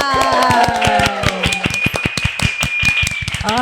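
Live audience clapping at an autism podcast seminar, a rapid run of sharp, uneven claps close by, with a sustained musical tone and other sounds underneath.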